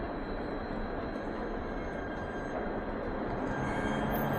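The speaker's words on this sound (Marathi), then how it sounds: "हे बघा ट्रेन." A train rumbles steadily at a small rail station in Brest, France, a continuous low broadband roar with no talk.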